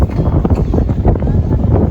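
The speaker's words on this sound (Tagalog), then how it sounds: "Grabe ng hangin." Strong wind buffets the microphone with a steady low roar and gusty rumbles throughout, loud and continuous.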